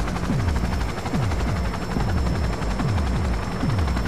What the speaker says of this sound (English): Wait for the helicopter to descend.